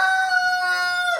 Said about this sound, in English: stinking rooster